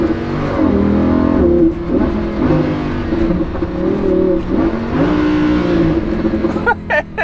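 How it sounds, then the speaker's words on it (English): Lamborghini engine revving hard through a double downshift, loud and close with rising and falling blips as the gears drop before a turn. "That was a double downshift."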